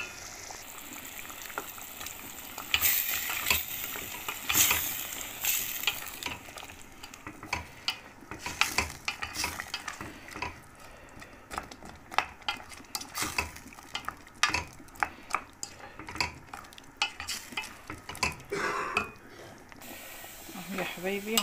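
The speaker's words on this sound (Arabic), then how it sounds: "الفراخ بتغلى اهي" Free-range chicken with white beans boils in a pot, with irregular clinks, stirring and bubbling sounds scattered through the clip and no voice.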